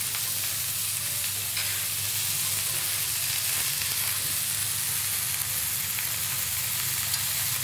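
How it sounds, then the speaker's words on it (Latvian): Steady, loud sizzling of burger patties frying on high heat, a continuous crackling hiss with no voices. "Mēs tās pašas lielas uguns turpinam viņu cept"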